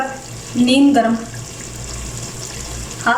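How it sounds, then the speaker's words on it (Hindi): Roughly half a cup of lukewarm water is poured into chicken masala cooking in a pot, giving a short hiss and splash beneath a voice, then a steady sizzle. "कप के करीब नीम गर्म पानी डालूंगी"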